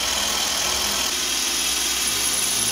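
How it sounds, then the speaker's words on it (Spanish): A power drill bores holes in a bathroom floor for anchoring a toilet, a steady, loud whirring hum held throughout without pause. "Y pues comenzamos a taladrear."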